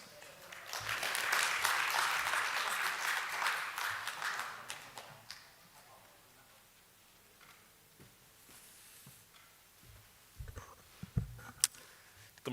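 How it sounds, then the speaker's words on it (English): Audience applause for a professor at an international sustainable development conference swells for about five seconds, then thins out into scattered claps and faint room sounds. "please join me in giving him a big round of applause to Professor Dr. Min Soo-ming"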